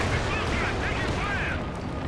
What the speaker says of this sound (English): Barrage in, maybe targeting the sniper,